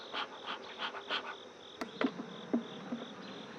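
Honey bees stir and buzz around a hive after the honey flow, giving a steady insect drone with several short, louder passes close by.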